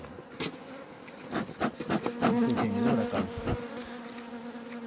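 Honey bees buzz close by with a steady droning hum, joined by scattered knocks and taps; a brief spoken word is heard.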